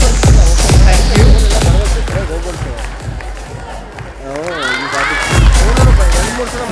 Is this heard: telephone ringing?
no